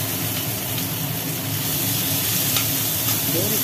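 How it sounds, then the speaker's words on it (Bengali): Boiled taro stalks hiss and sizzle in hot oil on top of fried onions, a steady close frying crackle with faint stirring, no voices. "ঘেঁটকোলের ডাঁটিগুলো সেদ্ধ করে রাখা ছিল, এবার এগুলো ভাজা পেঁয়াজের ওপরে দিয়ে দেওয়া হলো"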